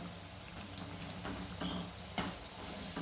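Bhaji fritters fry in a pan of hot oil, giving a continuous, fairly soft bubbling sizzle with a few small pops, close by and without voices.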